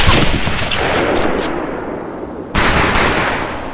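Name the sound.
rifle gunshots at a shooting range in Medal of Honor Pacific Assault video game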